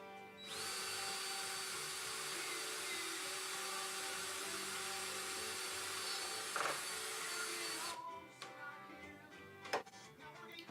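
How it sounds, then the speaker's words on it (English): A steady, loud power drill whines as it bores holes into each end of a scrap of wood for an Adirondack chair. It cuts off at about eight seconds, followed by a few faint knocks and handling sounds. "Drill holes in each end."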